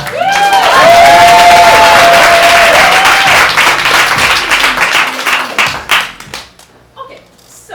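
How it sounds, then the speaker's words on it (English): A theater audience at an improv science show bursts into loud applause with whoops and cheers at the start, then the clapping thins into scattered claps and fades out. "Can we give a round of applause?"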